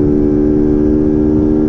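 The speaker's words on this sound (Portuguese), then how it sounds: "Deixa ele acelerar um pouco a ninjinha" Kawasaki Ninja motorcycle engine pulling hard at high revs, a loud, steady buzzing whine held close with the wind rushing past, easing slightly at the very end.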